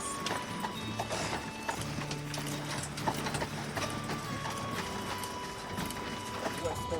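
A horse-drawn carriage travels a narrow pass beside the Atlantic on the Aran Islands, Ireland. Close, steady clip-clopping hooves with creaking, rattling carriage mechanisms, and faint voices in the background.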